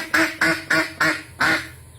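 A rubber toy duck squeezed as a stand-in horn on a motorbike gives five rhythmic squeaky quacks in quick succession, close and clear with no talking.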